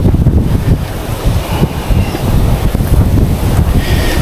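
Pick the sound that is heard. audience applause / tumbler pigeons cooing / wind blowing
wind blowing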